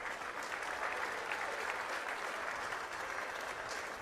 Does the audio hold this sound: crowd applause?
yes